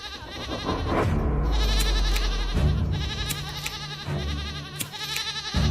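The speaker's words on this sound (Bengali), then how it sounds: "এত রাতে ছাগলের চিৎকার কেন?" A goat bleats at night in loud, drawn-out, wavering cries, several in a row, close and clear with no talking.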